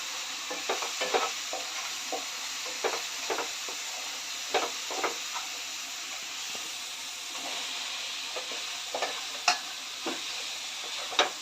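Jackfruit and potato frying in a pan for jackfruit biryani, a close, steady sizzle and hiss punctuated by regular scraping stirs of a spatula, with no talking.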